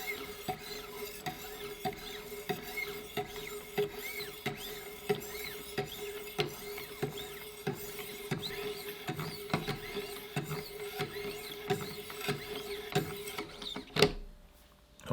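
Knife sharpener spinning 2200 grit sharpening stones against a blade, a soft steady grinding whir with regular light scraping strokes about every half second, ending in a sharp knock, no voices.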